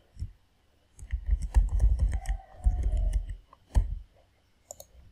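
Someone types a root user password on a computer keyboard during a MySQL install on Windows. The close, crisp key clicks come in short bursts with brief pauses between them.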